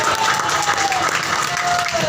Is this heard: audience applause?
yes